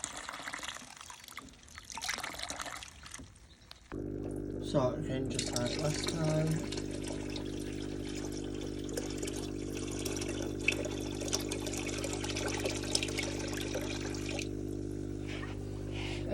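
Water steadily pouring and trickling into a container for a daphnia culture, a continuous rushing splash that begins after a few seconds and runs loud and unbroken, with a person speaking briefly before it starts.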